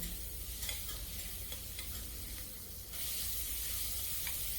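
Sliced onions sauté in oil in a pan over medium-high gas for egg biryani, giving a steady, close sizzle with occasional stirring clinks, slightly quieter for a moment before resuming at full strength.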